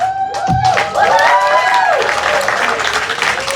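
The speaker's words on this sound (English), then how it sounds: "And I think that deserves a huge round of applause, right?" A crowd applauds at a restaurant ribbon-cutting ceremony, loud continuous clapping with some cheering and a brief whoop near the start, sustained throughout.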